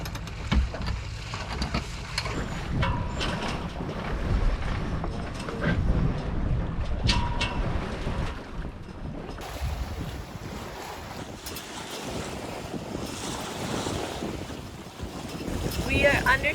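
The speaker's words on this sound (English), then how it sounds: "We are under sail as a cutter rig for the first time, and it feels so good." A sailboat under sail as a cutter rig on open water, with steady, loud wind rushing across the microphone and waves washing against the hull throughout, no voices.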